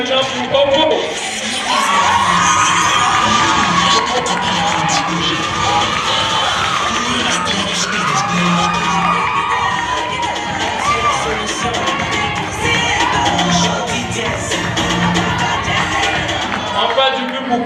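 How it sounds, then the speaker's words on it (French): A large, mostly young audience at a tournament final cheers and shouts for a team, a dense, loud wall of voices with high-pitched children's yells that continues steadily from start to finish. "On fait du bruit maintenant pour Opo."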